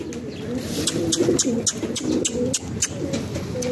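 Flock of pigeons returning to their keeper at a rooftop loft, soft cooing and fluttering with repeated sharp wing claps or chirps breaking through steadily, fairly close, over low outdoor background murmur.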